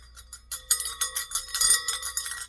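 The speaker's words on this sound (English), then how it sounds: "But I got this little apple bell." A small red apple-shaped bell ornament rings in a quick run of bright, shimmering chimes, a few light strikes at first and then denser ringing, close and clear with no talking.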